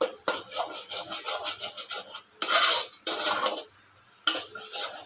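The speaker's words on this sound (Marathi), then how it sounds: "आता आपण टाकूया सगळे मसाले चांगले भाजून घ्यायचे तेलामध्ये" Spices being roasted and stirred in hot oil in a pan with browned onion for a Puneri matki misal, a close scraping, rasping stir in uneven strokes with a steady sizzle underneath.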